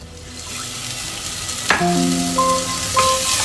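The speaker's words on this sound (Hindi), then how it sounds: "हम इनमें थोड़ा सा ऐड करेंगे पानी।" Water poured into a pot of sizzling tomato and onion masala for a cauliflower and meat curry sets off a sudden loud hiss over the steady frying crackle, followed by bubbling and stirring close by.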